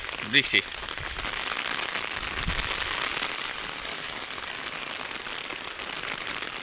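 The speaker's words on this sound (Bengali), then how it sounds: "বৃষ্টির তীব্রতা আরও বেড়ে গিয়েছে।" Heavy rain pours onto an empty road at dawn in a dense, loud and unbroken patter. A brief sharp knock sounds near the start.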